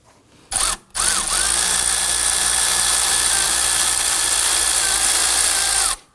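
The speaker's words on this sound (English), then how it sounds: "Let's go ahead and loosen up this 12mm adjuster bolt right here." A power drill or impact driver whirs loudly and continuously at close range, loosening the 12mm adjuster bolt on a 2005-2009 Subaru Legacy 2.5L H4, after a short burst and pause, with its pitch slowly shifting before it stops.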